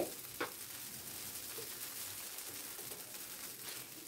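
Bread dosa poured like a set dosa and frying in oil on a pan, giving a steady, quiet, close sizzle with a faint clink near the start and no voices.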